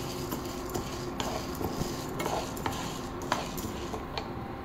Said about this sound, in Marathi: 1 वाटी चण्याची डाळ बारीक गॅसवरती ती लालसर होईपर्यंत भाजून घ्यायची आहे चांगली